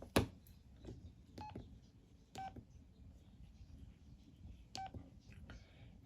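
Short electronic key tones from an LG C1300 mobile phone as menu buttons are pressed, a few separate beeps spaced irregularly, near and fairly quiet over light background noise.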